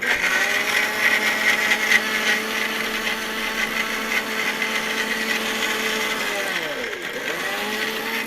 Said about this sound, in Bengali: এই ব্লেন্ডারটা দিয়ে আমি করে নিতে পারি